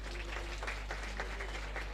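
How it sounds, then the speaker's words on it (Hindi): An audience applauds at a police passing out parade in Lucknow. The clapping is a steady, even patter under a constant low hum from the public-address system. "जोरदार तालियां एक बार माननीय मुख्य अतिथि जी के लिए"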